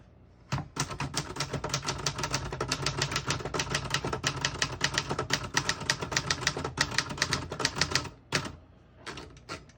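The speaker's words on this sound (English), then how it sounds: "I'll type a sentence in red on the next line to switch from black to red." Typing on a 1960s Remington Personal-Riter portable typewriter, a dense, steady run of sharp mechanical key strikes close to the microphone for about eight seconds, then a pause and a few final taps.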